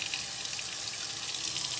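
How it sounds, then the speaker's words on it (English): Tap water runs steadily into a cooking pot, a continuous hissing splash heard alone at close range. "Okay, so I'm going to fill this with water, guys."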